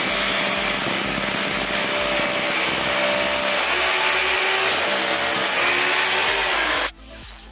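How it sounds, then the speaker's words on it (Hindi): A JPT heavy-duty rotary hammer drill machine runs at full speed with a loud, steady whining roar for about seven seconds, then cuts off abruptly. "एक नॉर्मल ड्रिल मशीन से इसका जो ड्रिल है काफी ज्यादा स्पीड है और काफी ज्यादा जल्द होता है।"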